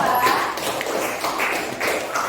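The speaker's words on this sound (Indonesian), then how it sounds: "Kita beri aplaus pada kelompok 2." A classroom audience gives group 2 a round of applause, a steady patter of many hands clapping throughout, fairly close and even, with no talking over it.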